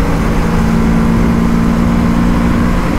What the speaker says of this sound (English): I have ridden the motorcycle fast enough to see if the wind noise really causes an issue